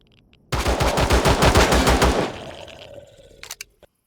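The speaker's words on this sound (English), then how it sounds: "A minigun." Minigun in the Empyrion space survival game firing one loud, rapid continuous burst of about two seconds, then spinning down with a few faint clicks.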